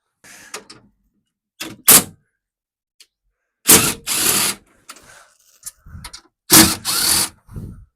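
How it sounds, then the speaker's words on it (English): Hand tools unbolting a seat from a Mercedes B-Class, heard as close, sharp bursts of ratcheting and metallic clicks in uneven clusters with quiet gaps between them. "unbolt this seat"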